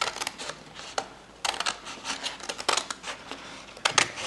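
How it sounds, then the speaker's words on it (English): Scissors snipping through paper while alphabet flash cards are cut out along drawn lines, with quick, close, irregular crisp snips and no talk. "I'm gonna cut right on those lines"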